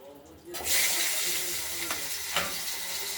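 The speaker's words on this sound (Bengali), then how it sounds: "আলুগুলো ভাজা হচ্ছে" A loud sizzle bursts up as potatoes hit hot oil with fried spices, then keep crackling steadily, with a couple of scraping stirs.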